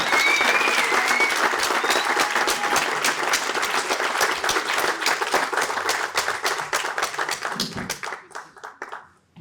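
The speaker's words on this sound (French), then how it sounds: "je vous demande de faire un énorme tonnerre d'applaudissements pour Khadija et Xavier" A community audience gives a loud, dense round of applause that holds steady for several seconds, then thins to scattered claps and fades out.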